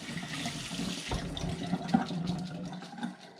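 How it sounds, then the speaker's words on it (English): Tomatoes rinsed under a running kitchen tap, a steady close splash of water into a sink with brief louder spatters, no talking. "the first thing we're going to do here is just rinse off these tomatoes"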